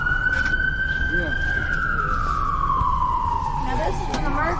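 An ambulance siren wails past during cold-weather street outreach, a loud single sustained tone slowly falling in pitch as it passes, over steady traffic noise with faint talk.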